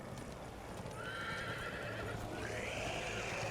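A horse whinnies in the video game The Walking Dead: A New Frontier, its long rising cry standing clear over a steady rumble of hoofbeats and outdoor noise, with no talk.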